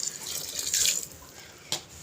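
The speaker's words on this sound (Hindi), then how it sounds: "इसमें पानी का ऐड कर देती हूँ।" Water from a glass splashes into a cooking pot of lobia (black-eyed pea) keema, a brief pouring burst midway followed by a short splash near the end, with faint kitchen background.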